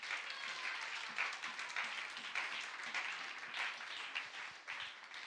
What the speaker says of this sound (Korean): 우리 아빠들 잘하라고 박수 한번 쳐줍시다.